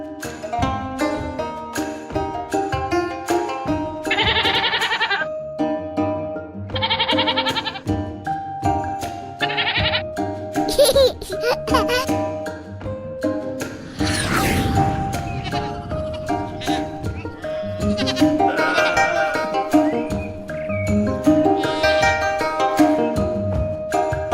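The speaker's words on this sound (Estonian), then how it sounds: "Kits." Goat kids bleating at a farm, several overlapping bleats and cries in quick succession, fairly close and loud, with other animal calls mixed in and no talking.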